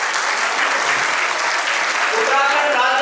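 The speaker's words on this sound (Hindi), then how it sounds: "अपने ताली तो बजा दो।" An audience at a college event in Berinag, Pithoragarh, breaks into dense, sustained clapping that fills the room evenly throughout.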